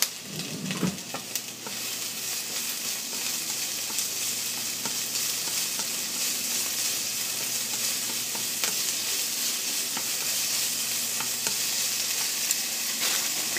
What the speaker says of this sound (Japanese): ピーマンと ソーセージ、そして先ほどの葉の下の部分の硬い方を先に入れて ピーマンがちょっとしなっとなるぐらいまで炒めていきます